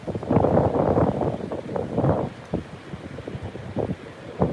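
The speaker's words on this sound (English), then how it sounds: "It's just very wet and windy today." Strong wind and rain sweep over an outdoor spot at Heathrow airport, loud gusts battering the microphone in surges that ease and build again, with no talk over them.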